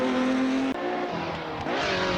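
Porsche 917 Kurzheck Le Mans race car at Goodwood Festival of Speed, its loud engine roaring close by with a steady high pitch, a quick gear change cutting in briefly, then revving up again.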